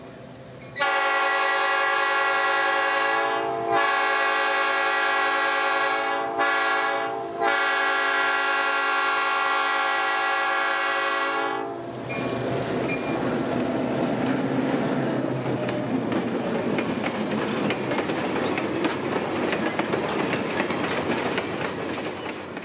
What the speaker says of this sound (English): 204 leads the festive train back south